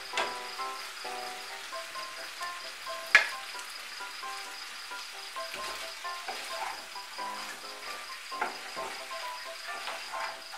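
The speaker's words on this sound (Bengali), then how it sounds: "আমি এখন মশলাগুলো ভালো করে কষিয়ে নেব।" Spices sizzle steadily in a pan with sugar and green chillies for a Bengali vegetarian pumpkin dish. A constant crackling fry runs throughout, with a sharp clink near the start and occasional stirring scrapes.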